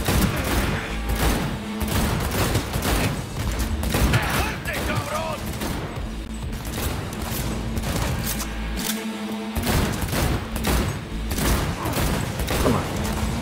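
Rapid gunfire bursts and volleys crackle in the Cyberpunk 2077 video game, loud and repeated across the firefight over game music, with a brief pause before the shooting resumes.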